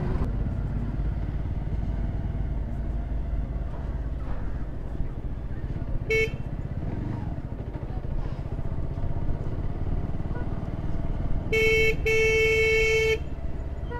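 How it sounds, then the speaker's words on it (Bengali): A motorcycle horn beeps in city traffic in Kolkata: one short toot, then a longer doubled honk, over the steady drone of engines and road noise. "হর্ন দিচ্ছি তাও ডান দিকে যাবে।"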